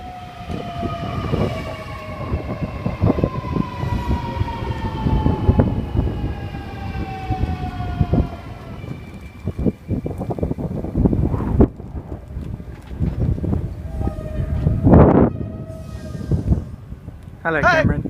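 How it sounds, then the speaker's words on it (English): A Sydney M set electric train arrives at Sefton station, its rumble and whining motor tones drawing nearer with gusty background noise, ending in a sharp rising whine as it pulls in. "It's an M set approaching."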